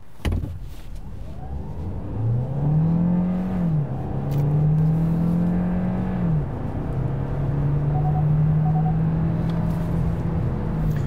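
A Hyundai Tucson hybrid SUV accelerating hard in a performance test, its engine note rising and shifting through gears with a steady whirring drone inside the cabin, loud and continuous with no talk.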